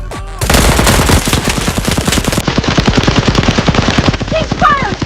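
Rapid, loud automatic gunfire from a Marvel movie scene hammers away in a dense, continuous burst for several seconds right after a sharp opening shot, with faint voices in the background.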